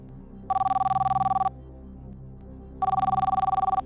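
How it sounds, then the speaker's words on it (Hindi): A telephone rings in two long electronic bursts separated by a pause of quiet, the trilling tone loud and close, on a TV quiz show set. "बलदेव सिंह जी मुंबई में बात करना चाहती हैं, कृपया उन्हें फोन लगाएं।"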